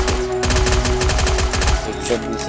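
Rapid automatic gunfire from a Free Fire mobile battle royale match, a loud close burst of fast repeated shots lasting about two seconds before tapering off amid game effects.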